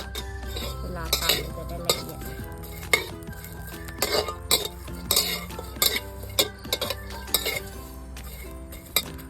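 Shrimp being dry-roasted in a pan, stirred with a metal utensil that scrapes and clinks against the pan in an irregular rhythm of sharp, close knocks and rattles throughout.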